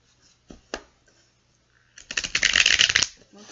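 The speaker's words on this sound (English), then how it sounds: "Alright, I think maybe 3 more shuffles should do the trick." Tarot cards being shuffled by hand: two quick card taps, then a dense, close riffling burst lasting about a second, with no talk over it.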